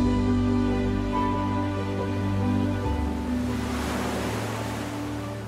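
Waves wash against the Qualicum Beach seawall in a steady, full roar of surf with some wind noise, and no talk.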